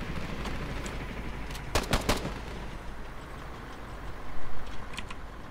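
Bursts of anti-aircraft gunfire from an aircraft in a combat flight video game, a few sharp clustered shots near the middle and another short burst toward the end over a steady engine drone.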